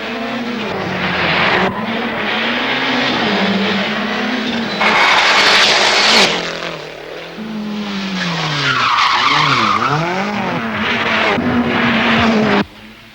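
1989 world championship rally cars screaming through corners, loud revving engines with swooping Doppler pitch sweeps and skidding tire noise as cars pass close, one after another, with no talking.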